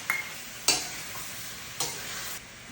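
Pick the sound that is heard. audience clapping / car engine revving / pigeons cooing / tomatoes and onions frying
tomatoes and onions frying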